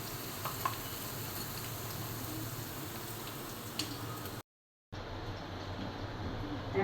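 Onion pakoras and egg chops frying in a pan of hot oil, a steady close sizzle and bubble running throughout, broken by a brief silent gap before the sizzling resumes.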